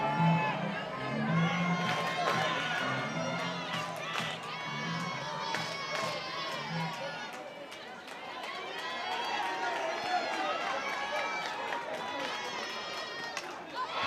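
The crowd at an LSU vs South Carolina NCAA softball game cheers and shouts on a sunny day in the capital city, a sustained roar of many voices with whistles and calls, while a commentator talks over it.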